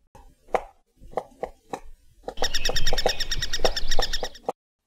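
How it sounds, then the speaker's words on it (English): A woodpecker: a few separate sharp knocks, then a dense, even run of rapid drumming taps lasting about two seconds, close and fairly loud with no voices. "Woodpecker"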